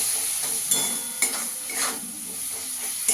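Turmeric, cumin, coriander and Kashmiri chilli powders frying in oil for dal fry, a soft sizzle with a few scraping stirs and light clinks of a spoon on the pan, close and unhurried, no talking.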